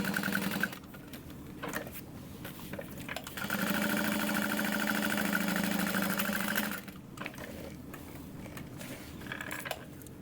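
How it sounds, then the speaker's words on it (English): Sewing machine back stitching along the bottom of a Minerva tote bag, short stitching bursts around one sustained run in the middle, close and moderately loud, with no voices. "We're sewing along the bottom, back stitching where those pockets connect."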